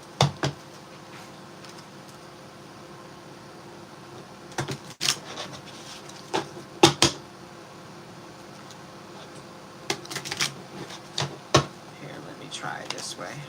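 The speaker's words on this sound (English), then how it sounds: "Sometimes when I'm shuffling the little decks" Tarot cards being shuffled by hand: a few short, crisp bursts of riffling and flicking scattered across a quiet, hissy background, some in quick clusters and others spaced out.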